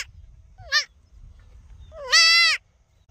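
Two goat bleats, a short wavering call and then a longer, louder one, ring out clearly over a quiet low rumble on a goat farm.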